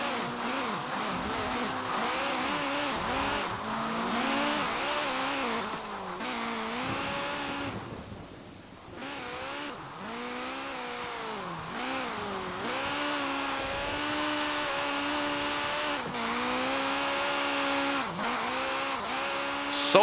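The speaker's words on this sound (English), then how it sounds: "So loud. Oh my god, Charby. What a blow in your engine" A race car engine in Forza Horizon 4 revs hard and continuously, climbing and dropping through gear changes with a brief lull midway, loud and close.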